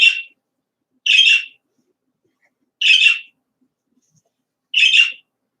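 Four short, bright bird chirps ring out alone at roughly even gaps of one to two seconds, each crisp and close against silence.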